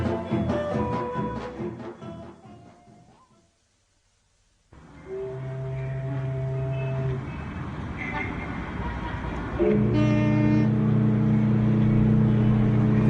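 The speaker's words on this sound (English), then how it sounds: "In a little while, the traffic will die away" Street traffic in a Japanese city hums steadily at night within a full-cast radio drama of a Bond spy thriller, with sustained horn-like tones over the roar and voices speaking before it.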